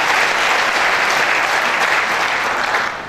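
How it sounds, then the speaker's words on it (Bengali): An audience at an achievers' celebration applauds, a loud, dense wash of clapping that holds steady for about three seconds before starting to fade. "সবার জন্য জোরদার করতালি প্রত্যাশা করছি"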